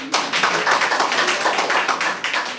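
An indoor audience claps together in a dense, continuous burst of applause for a few seconds, close and loud, with no talk over it.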